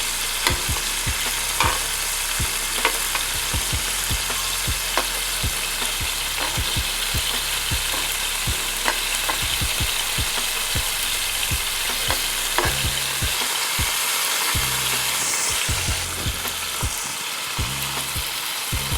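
Steak searing in batches in a hot skillet, a dense continuous sizzle with frequent scraping and clinking stirs, close and loud throughout, no talking.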